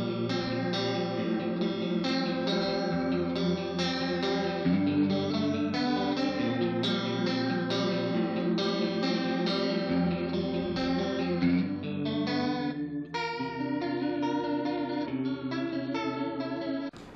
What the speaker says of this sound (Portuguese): Agora vou mostrar para vocês o segundo canal do chorus.